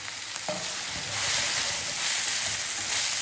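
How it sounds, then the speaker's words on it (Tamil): Carrot, tomato and green chilli sautéing in a pan, with a continuous broad frying hiss, close and steady, and stirring movements audible throughout. "இதே நல்லா வதக்கி விட்டுருங்க"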